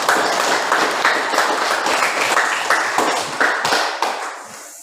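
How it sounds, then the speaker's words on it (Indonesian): A classroom of students claps together in a lively, slightly uneven burst of hand claps with individual sharp smacks that taper off toward the end. "tepuk tangan dulu untuk kita semua"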